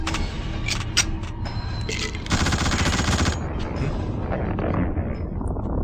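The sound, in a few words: gunfire in The Suffering video game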